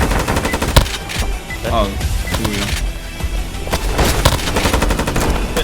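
Rapid gunfire from a PK-57 AK pistol, a 15-shot sidearm in the tactical shooter Due Process, with sharp close shots cracking in quick succession amid other weapon fire, and a voice briefly speaking over it.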